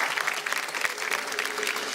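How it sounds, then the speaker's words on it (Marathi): A studio audience claps loudly and steadily for a TV show, a dense wash of applause that fills the whole stretch. "जोरदार टाळ्या झाल्या पाहिजे।"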